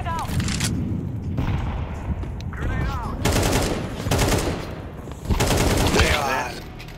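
Bursts of rapid automatic M4 rifle gunfire in Counter-Strike, arriving in several loud volleys with voices talking between and over them.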